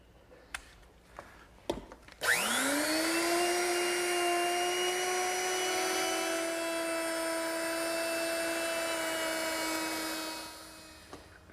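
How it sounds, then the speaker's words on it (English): A router fitted with a 1/2 inch round-over bit spins up after a few handling clicks, then holds a loud, steady high whine while rounding a wood edge before winding down, with no talking. "to round that over, I'll simply use my router, which is set up with a 1/2 inch rounding over bit"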